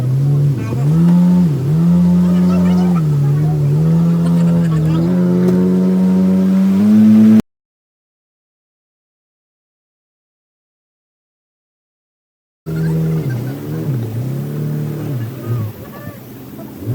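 Motorboat engine droning and shifting pitch as it cruises through mangrove forest channels at Baratang Island, loud and close, cut off by a silent gap before resuming with a rougher, fluctuating tone.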